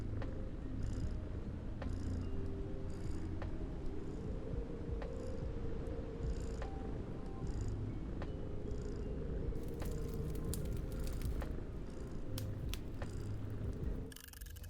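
A cat purrs steadily throughout at moderate volume, a continuous low rumbling texture, with a snowy-day stream backdrop and a few faint clicks near the end.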